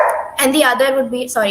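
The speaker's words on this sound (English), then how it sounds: "just excuse my dog in the background." A pet dog barks in the background of an indoor conversation, several short yips heard faintly under a person speaking close to the microphone.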